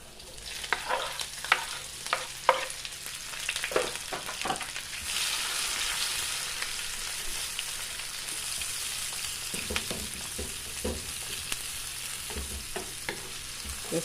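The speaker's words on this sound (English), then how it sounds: "Now that our oil is heated, we're going to add our chopped veggies." Chopped vegetables sauté in hot oil on a stove with a steady sizzle, while a utensil stirs and scrapes the pan in scattered clacks, loudest early and again near the end.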